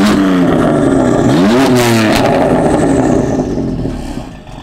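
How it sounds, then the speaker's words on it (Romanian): A BMW M4 sports car with an aftermarket exhaust is revved hard while stationary, giving a couple of loud rising-and-falling blips and a crackly, rumbling tail as the engine settles back. "Acum o să vă arăt cum se aude mașina pe loc."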